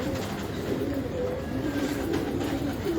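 Pigeons coo steadily inside a loft, a dense layer of low, throaty calls from many birds close by, with no talk over them.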